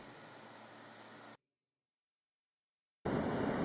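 An R160 subway car on the E train bound for World Trade Center rumbles along with a steady, dense roar that cuts out abruptly for about a second and a half before returning at full level.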